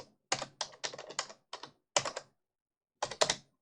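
Keys clatter on a computer keyboard while a scene is typed into KIT Scenarist, coming in short quick bursts split by pauses, close and crisp in a quiet room.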